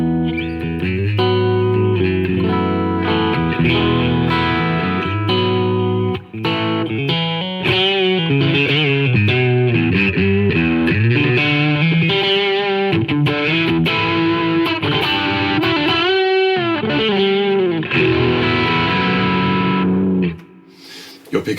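Electric guitar played through an Analog Man King of Tone overdrive pedal set to distortion mode, loud sustained distorted chords and melodic runs with a brief pause midway and near the end.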